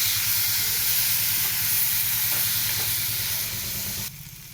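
A ground paste of ginger, white mustard and green and dried chillies sizzles in a pan, a loud close hiss with a low steady burner hum underneath, cutting off abruptly near the end.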